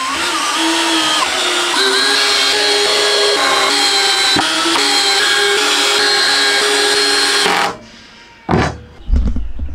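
A power drill drives 1 inch screws into plywood coffee table legs, whining loudly and steadily for several seconds before cutting off, followed by a couple of heavy knocks and handling sounds nearby.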